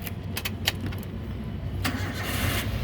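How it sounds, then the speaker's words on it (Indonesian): A manual 2013 Daihatsu Xenia 1.3 X Plus car, keys clink and the starter cranks briefly before the engine catches and settles into a close, steady idle. "sekarang kita coba nyalakan mobil."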